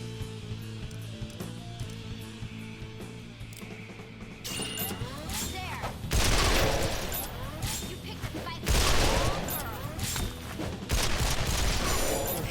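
Video game gunfire: a dense metallic hum gives way to bursts of rapid shots and heavy booms in three loud waves, with crashing impacts layered on top.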